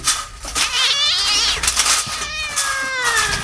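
A 14-pound tomcat meows loudly and insistently in a series of long, wailing cries, close by with little else around.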